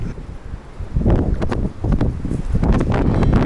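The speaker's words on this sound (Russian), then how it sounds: "Смотрите, как дует ветер" Strong wind blows in gusts across an open riverside fishing spot near Astrakhan, buffeting the microphone with loud rumbling surges that rise and fall throughout.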